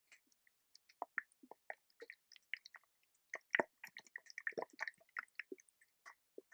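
Water splashes and drips over a potted Singapore Blue plant as it is rinsed off, giving irregular close wet squishes and trickles with no talking.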